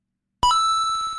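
A single bright bell ding strikes sharply and rings on with a clear, slowly fading metallic tone, heard alone and close.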